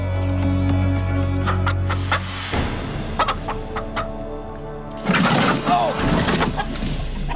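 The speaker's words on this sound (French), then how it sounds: "J'ai attrapé une poule!" A chicken clucks repeatedly while it is chased and caught with a net on a taped-together island, with sharp bursts and scuffling amid loud background noise and voices in the middle and at the end.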